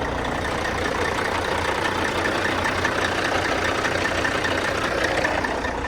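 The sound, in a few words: Kenworth truck engine idling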